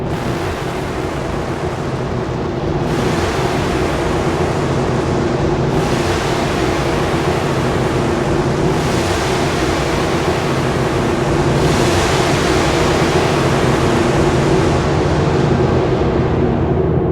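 A wide, washy synthesizer pad drenched in reverb and delay, swelling in slow repeated waves that echo and trail into one another, loud and continuous.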